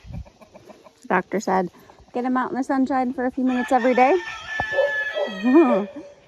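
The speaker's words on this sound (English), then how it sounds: "And I can hear the roosters outside." Roosters crow repeatedly in the distance on a farm in the morning, their drawn-out calls overlapping someone speaking close by.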